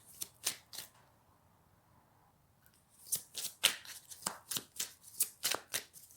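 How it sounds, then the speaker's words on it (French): A tarot deck being shuffled and drawn from by hand: a few crisp card riffles, a short pause, then a fast series of sharp slaps and flicks as cards are handled near the listener, with no talk. "je vais tirer les 3 cartes"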